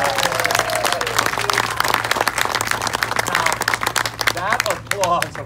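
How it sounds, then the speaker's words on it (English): Wedding guests clap steadily right after the ring exchange at a ceremony, a dense close round of applause with cheering and voices mixed in, fading slightly toward the end. "Applause, of course, is greatly appreciated."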